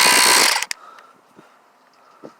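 A tiny portable air compressor screwed onto an inner-tube valve runs with a loud, close buzzing hiss for about half a second, then cuts off with a couple of sharp clicks and faint handling noises.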